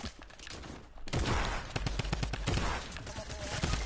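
Rapid bursts of video game gunfire crackle through a dense, busy mix, quieter at first then louder and sustained after the first second, with repeated sharp shots stacking into fusillades.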